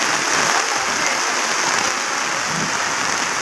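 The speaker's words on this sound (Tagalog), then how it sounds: "Ay, lakas ang ulan." A dense, continuous roar of heavy rain hisses evenly and loudly nearby, with no voices over it.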